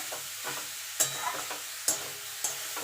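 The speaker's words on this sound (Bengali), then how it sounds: "এটাকে একটুখানি নাড়াচাড়া দিয়ে নেবো" Close, quiet sizzle of grated carrots frying over high heat for gajar halwa, with a few sharp scrapes of a spoon stirring in a pan, no talking.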